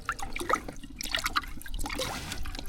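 Water being stirred in a container holding small fish, with close sloshing, trickling and splashing that rises and falls in short swirls.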